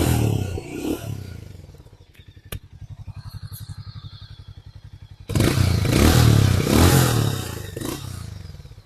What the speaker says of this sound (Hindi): Guys let me show you the exhaust note.